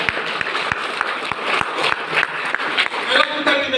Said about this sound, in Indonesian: Tepuk tangan bagi pendeta.